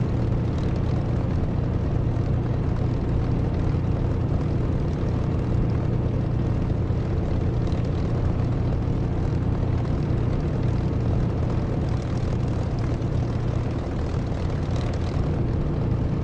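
Spitfire aircraft engine in the DCS flight simulator game, a dense steady propeller drone with a low throbbing rumble, loud and constant for about sixteen seconds with no talk.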